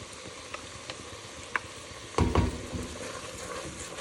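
Garlic frying in a soup pot for Zuppa Toscana, a quiet sizzle with a few light clicks, then a louder burst of crackling and stirring as it hits the hot fat and keeps hissing.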